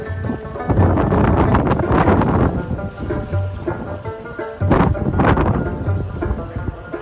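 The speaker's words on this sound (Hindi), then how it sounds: "हवा आना शुरू हो गया गाइस।" Gusty wind sweeps across a wooden suspension bridge in Baltistan, buffeting the microphone in loud, rough bursts that rise and fall over several seconds.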